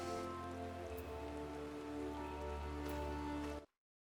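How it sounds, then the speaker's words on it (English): Steady rain falls in the video game Diablo IV, a dense even hiss layered with music that runs without a break for several seconds and then cuts off abruptly. "It is raining."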